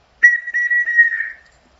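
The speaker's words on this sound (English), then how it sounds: "Blow the wee whistle there, so check if everyone can hear whether they can hear you." One short, shrill blast on a small whistle, loud and close, lasting just over a second in a quiet living room.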